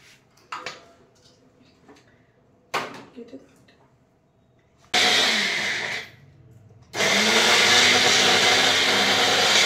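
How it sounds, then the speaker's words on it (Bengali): A small Borosil mixer grinder, first knocked and handled with a few clattering taps, then switched on in two loud whirring bursts, the second running on steadily and close by. "তো আজকের ইউজ করব মিক্সিটা, দেখি কিরকম মানে এতে বাটা হয়"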